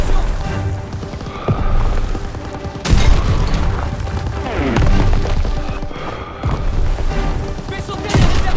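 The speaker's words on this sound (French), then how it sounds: "Fais sauter les réserves de munitions." Loud, dense battlefield din from Call of Duty WWII: repeated booms and bursts of gunfire as an ammunition depot is blown up, with heavy thuds recurring every couple of seconds and a voice shouting orders over the racket.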